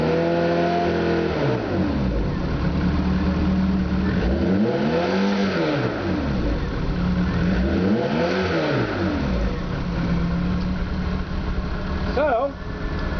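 A 1970 Opel GT with a 2.4 Motronic fuel-injected engine revs up twice under throttle, each rise and fall sweeping smoothly above a steady idle, loud and close throughout.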